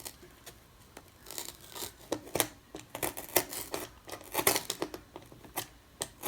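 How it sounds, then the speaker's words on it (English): Scissors cutting out a circle for a Dollar Tree DIY wall sconce, steady rhythmic snips and crisp rasping cuts repeating close up, moderately quiet with no talking. "just cut around the circle or whatever you're going to be cutting out to fit your sconce"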